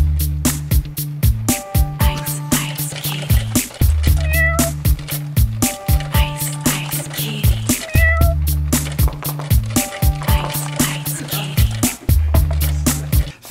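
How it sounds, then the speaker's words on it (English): A cat meows repeatedly in a steady rhythm over a pulsing beat, with loud, close, drawn-out cries recurring every couple of seconds. "And now, a cat does a thing."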